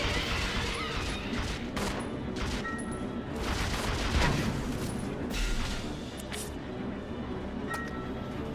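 Steady video game gunfire from Resident Evil Zero, with repeated shots and booming impacts blurring into a dense, continuous barrage at moderate loudness, a few bright tones flickering over it.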